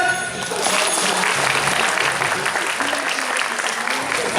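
Audience applause at a juggling competition battle round, a dense burst of clapping that swells quickly and holds steady for several seconds, with crowd noise mixed in and no clear talking.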